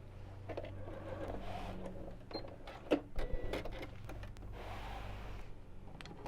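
A sewing machine stitches fabric for a reversible bag in short runs, its motor whirring in bursts with brief pauses and clicks between them, fairly quiet and close.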